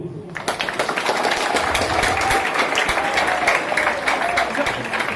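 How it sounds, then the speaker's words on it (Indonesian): A school audience breaks into applause at an outdoor tree-planting event. Dense, steady clapping starts suddenly and continues loudly, with a few voices underneath. "Aplaus dulu"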